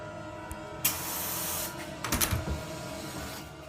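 A can of bear spray releases a steady loud hissing jet for close to a second, then short bursts follow, sprayed outdoors at a bear during a close encounter.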